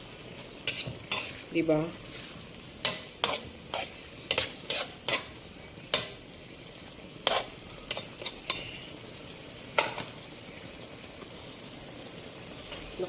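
Chicken stir-fried in a pan, a continuous sizzle broken by a long run of regular sharp spatula scrapes and clanks against the pan, up close; one brief spoken word.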